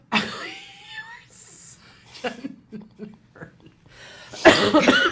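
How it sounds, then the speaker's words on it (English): Someone coughs roughly a couple of times close up amid brief vocal noises and breaths, ending in a harsh, loud burst. "Now I'm going to cough."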